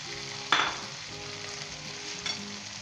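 Aloo gobhi curry with freshly added coriander, green chilies and ginger being stirred in a pan, with one sharp scraping sizzle near the start and a softer one later over a steady low frying hiss, no voices.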